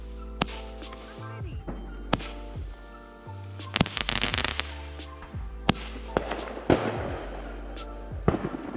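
A 16-shot consumer firework cake firing outdoors, a string of sharp booms and crackles at uneven intervals, with people's voices and other sound running underneath.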